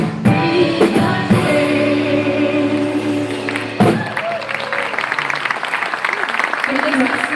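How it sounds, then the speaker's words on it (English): Audience applause at a live event, clapping rising into a dense patter after a stretch of singing and music, with voices over it. "Another round of applause for the amazing musicians."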